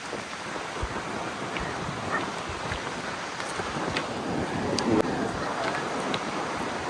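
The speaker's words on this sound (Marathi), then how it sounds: "मस्त हवा सुटली." Wind gusts steadily across a beach in Goa, a broad roaring rush with faint surf beneath, staying fairly even and loud throughout with a slight swell near the end.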